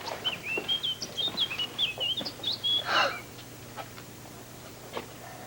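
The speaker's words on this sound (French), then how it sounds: "Voici le vieux merle." A single blackbird sings a clear, fluting phrase of varied whistled notes, fairly close, over quiet background with a few faint clicks.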